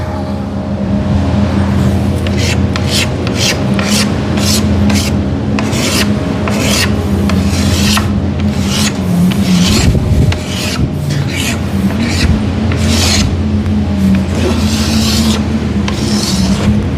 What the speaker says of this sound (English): Scraped a little too hard.